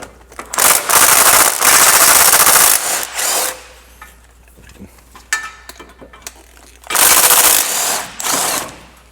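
A power tool rattles loose bolts on a Lexus GX460 in two loud, close bursts of rapid impact hammering, with clinks and handling noises between them and no talking.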